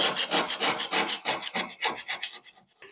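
A scraper rasps old glue off a wooden parlor cornice being restored, a close, loud run of rhythmic back-and-forth scraping strokes, quick and gritty, that slow and thin out toward the end, with no voices.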